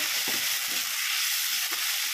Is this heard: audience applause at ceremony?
no